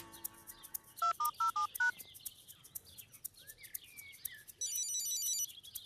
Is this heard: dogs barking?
no